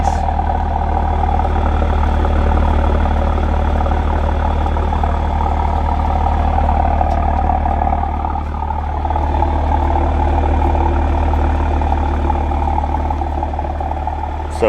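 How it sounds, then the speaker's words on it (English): A Toyota Supra MK5 with a full aftermarket exhaust idles with a deep, steady, loud rumble that holds even and unbroken throughout. "just aggressive growl to it as it just sits there and idles"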